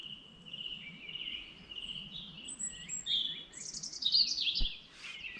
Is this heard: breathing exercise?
no